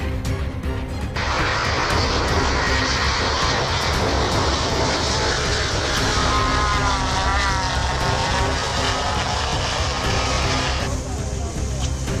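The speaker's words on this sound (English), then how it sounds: "Another example of a 787 coming in at a Boeing test facility" A Boeing 787 airliner roars past on approach at a Boeing test facility, loud and steady with a broad engine whine that swells and shifts in pitch as it flies by.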